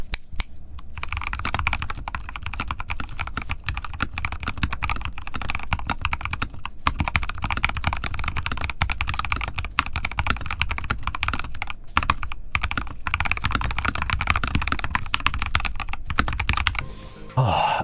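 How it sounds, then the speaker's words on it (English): Continuous fast typing on a modded mechanical keyboard tuned for a deep, thocky sound with a hint of marble, dense clacking keystrokes close and steady for the whole stretch with no talking. "how does the board sound?"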